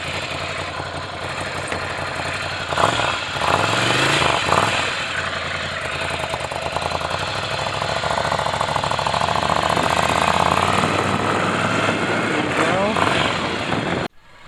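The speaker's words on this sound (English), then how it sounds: "I love the sound coming from the exhaust" A 2017 Ducati Scrambler Cafe Racer engine idles and revs close by, its exhaust burbling and rising in pitch, with voices talking over it, then it cuts off abruptly.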